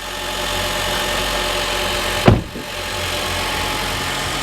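A used car's engine idles steadily with a low rumble and slight knocking while it backs up and pulls forward, with a single sharp thump in the middle.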